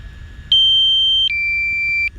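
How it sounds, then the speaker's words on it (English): A DJI Mavic Pro drone sounds its low battery warning: a steady electronic tone that steps to a lower pitch partway through, loud and continuous for over a second and a half against quiet background hiss. "that right there is my low battery warning."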